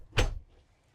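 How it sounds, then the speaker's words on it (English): A single short bump as an overhead storage cabinet door opens in the kitchen of a small 10 ft Taylor Coach camper, close and brief, then quiet. "Oh, let me just grab this door."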